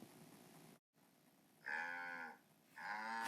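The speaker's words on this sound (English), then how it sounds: "And the cow said, "Moo!"" A farmyard cow sound effect for a storybook reading: a prize cow in its shed gives two long, loud, drawn-out moos, the second following a short pause after the first, with a brief silence near the start.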